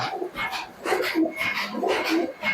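Giribaz pigeons coo close by in a run of repeated low, throaty calls that swell and fade in a loose rhythm.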